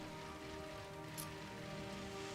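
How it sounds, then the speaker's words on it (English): Steady, even rain patters down in Pokemon Shield, a soft constant hiss that runs unbroken for the whole stretch with no voices over it. "hopefully when we come round here the rain might stop. It hasn't. It's not stopping."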